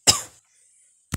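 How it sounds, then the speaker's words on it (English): A single sharp cough from a man who is still a little sick, close and brief, followed by silence and the start of a second cough at the end. "Still got, like, the cough a little bit."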